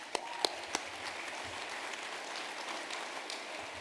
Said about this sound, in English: I just want to get a quick round of applause for that